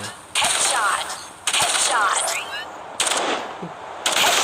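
Automatic Vandal rifle fire in the video game Hyper Front, four loud bursts of rapid shots with short pauses between them.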